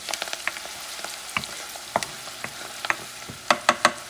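Ingredients for chickpeas with cod sizzle in a hot pan, with a steady crackle broken by sharp pops and stirring clicks, louder bursts near the end.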